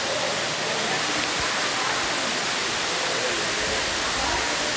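Ruby Falls, an underground waterfall deep in a cave, gives off a steady, loud, broadband rushing roar that holds constant throughout without pause.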